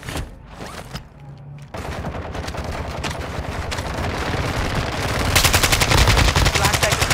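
Video game gunfire while a sniper targets the player, with sparse shots at first, then dense rapid bursts of automatic fire that grow louder and more continuous.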